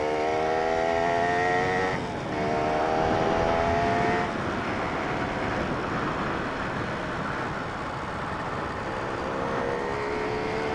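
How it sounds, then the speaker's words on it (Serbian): An enduro motorcycle riding along a road, its engine droning steadily with rising whines that drop at gear changes, mixed with constant wind rush. "S obzirom da je ovo enduro motor"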